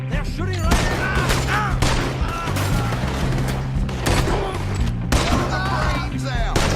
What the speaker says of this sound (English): They're shooting right at us!